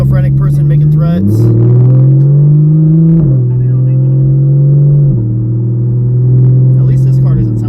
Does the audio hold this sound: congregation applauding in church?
no